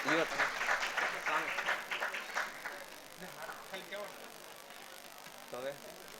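Audience applause at a Shikshapatri katha assembly in Jetpur, a steady wash of many hands clapping that swells early and slowly tapers, with a voice speaking over it in the hall.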